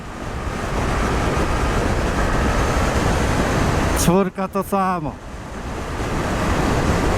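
Strong wind noise buffets the rider of a Suzuki GSX-8S motorcycle at speed, a loud steady roar that dips briefly while a voice speaks over it.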